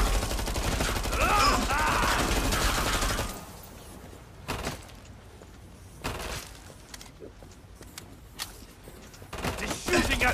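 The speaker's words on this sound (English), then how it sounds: "He's shooting at me!" Gunfire in Killing Floor 2 opens as a loud, dense volley, then gives way to scattered single shots and thuds with quieter gaps between them.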